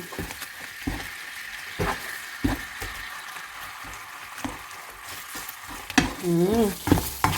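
Red curry paste is stir-fried with coconut milk in a pan, a quiet bubbling sizzle with intermittent spatula scrapes and knocks, and a voice briefly talking near the end.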